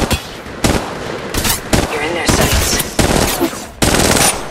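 Rapid automatic gunfire in the mobile battle royale game Apex Legends Mobile, loud close bursts in quick succession with brief gaps between volleys and game voice callouts mixed in.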